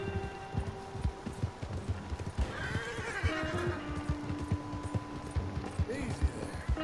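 Horse whinnies and clip-clopping hooves in the video game Red Dead Redemption 2, a steady trot of hoofbeats under game music and ambience with a neigh in the middle, while a character speaks.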